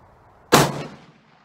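A single sharp, loud rifle shot from a Ruger American Go Wild chambered in 300 Win Mag, fitted with a scope, cracks close by and then fades in a short rumbling echo.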